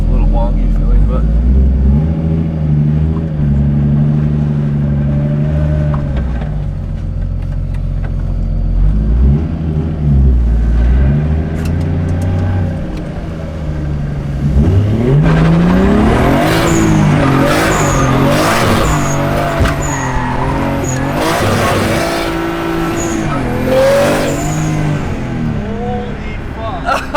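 An engine-swapped drift car takes its first drive with unset suspension, its engine revving and accelerating loudly under ongoing talk. Bursts of high tire squeal and skidding grow stronger in the second half.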